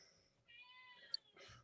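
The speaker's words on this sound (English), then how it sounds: "That's my cat meowing in the background." A house cat meows in the background, two or three quiet, drawn-out calls with a brief sharp peak, heard faintly and alone against a quiet room.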